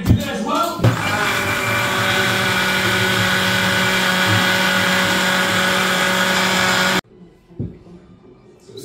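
A mixer grinder purees spinach for palak chicken, a loud steady motor whine that runs unbroken for about six seconds, then cuts off into quiet kitchen clatter.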